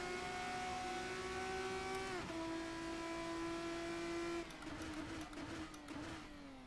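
A Formula 3 race car engine in the sim racing game Assetto Corsa holds a high steady whine, drops in pitch as it shifts down under braking, then settles lower and fainter.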